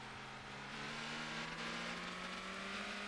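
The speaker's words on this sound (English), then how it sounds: "You could also hear Sylvie just completely redlining the car there." A Sports Retro I4 race car engine in Motor Town screams at redline, a steady high-pitched drone with rising tones, held continuously and fairly faint.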